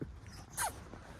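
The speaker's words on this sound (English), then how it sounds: "What type of doggy is he, Jeremy?" A dog gives a single short, sharp sound, like a snort or sneeze, against quiet room background.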